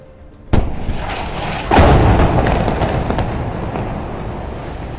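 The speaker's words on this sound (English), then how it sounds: "We're going to direct the camera now towards the explosions." Explosions during bombing in Gaza: two heavy blasts, a sharp one early and a bigger one soon after, followed by a long rumbling, crackling tail.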